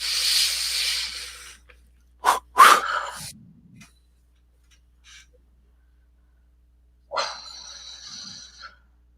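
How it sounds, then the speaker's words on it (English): Breathing during a guided meditation session: a long audible inhale, a couple of sharp breathy bursts and a soft exhale, then quiet before another drawn breath near the end. "Take a breath, everybody."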